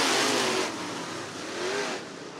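Late model race cars on a speedway track at the restart: a loud roar of engines revving and accelerating, swelling and falling as the pack comes out of a turn, heard from the stands without voices.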